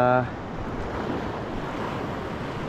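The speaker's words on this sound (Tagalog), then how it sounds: "Lulusong tayo tapos medyo maalon." Choppy sea waves at a rocky shoreline during a fishing outing, a steady rushing wash of surf mixed with wind buffeting the microphone and a brief tonal sound at the very start.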